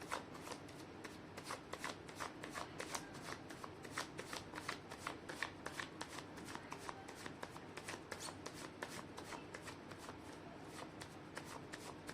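Tarot cards shuffled by hand in a rapid run of crisp riffling flicks, steady and close throughout with no voice over them.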